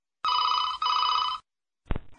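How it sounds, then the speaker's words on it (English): A telephone bell rings twice in quick succession, loud and close, followed after a short pause by a brief low thump, with no voices. "Your phone rings."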